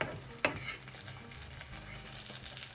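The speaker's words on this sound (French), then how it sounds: "nos filets de limande arrivent à terme au niveau de la cuisson" Dab fillets frying in a pan make a soft, continuous sizzle with light crackling and a brief utensil knock near the start, fairly quiet throughout.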